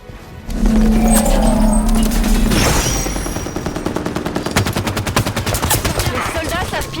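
Loud, rapid automatic gunfire in the Halo 5 campaign, a dense rattling burst under a vehicle engine roar, with a brief voice line near the start.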